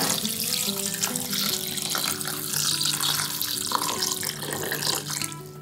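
Water runs steadily from a tap into a cooking pot to cover ingredients for a homemade repellent decoction, a continuous close splashing flow with rising pitch as the pot fills.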